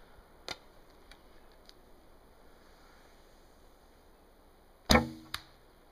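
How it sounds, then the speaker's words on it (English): Arrows strike a tree stump: a sharp, close thud, then a few faint ticks in a quiet outdoor setting, and later a louder, ringing impact followed by a smaller knock. "I don't like when arrows hit sideways on the stump."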